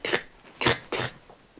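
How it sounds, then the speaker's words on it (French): Coughs from somewhere outside a supposedly haunted house, about three muffled bursts spaced apart, moderately faint and distant-sounding, with no talk over them. "là, ça a toussé, mais c'est dehors"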